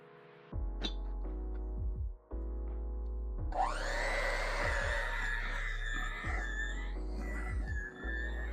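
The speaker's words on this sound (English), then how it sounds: "I don't smash them up because my blender will do all that." A kitchen blender whirs through bananas and milk for banana pancake batter, its motor running loud and steady with brief pitch dips and changes as the blades chop and the mixture smooths.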